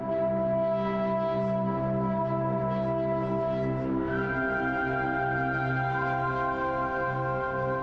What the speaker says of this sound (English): This is the shelf, the large metal shelf.